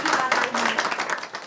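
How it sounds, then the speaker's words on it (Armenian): Audience applause in a museum hosting art school pupils at a concert dedicated to Komitas: a steady, dense clatter of clapping mixed with voices throughout. "եկեք ծափողջուններով ողջույն"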